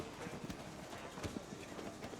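Horse hooves clip-clop at a steady trot in Shadow of the Colossus, faint and rhythmic over a soft gameplay background, with occasional quiet sounds mixed in.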